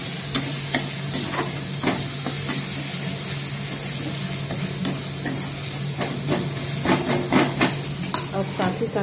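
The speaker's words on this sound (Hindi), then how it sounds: "कढ़ाई में हमने तेल डाल दिया है, अब इसमें मैं डालूँगी अदरक लहसुन का पेस्ट" Ginger garlic paste frying in oil in a kadhai: a steady close sizzle and hiss, with scattered crackles and spatula scrapes over it.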